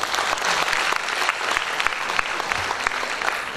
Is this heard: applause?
yes